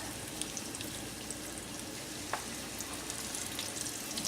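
Pork tenderloin cutlets fry in a pan with a steady, close sizzle and crackle, broken only by a faint tap partway through; no voices.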